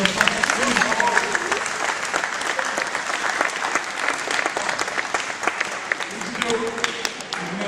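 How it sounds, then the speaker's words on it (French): Audience at a martial arts gala in a hall applauding performers: sustained, dense clapping from a crowd for several seconds, with scattered voices underneath. "On les applaudit dans le"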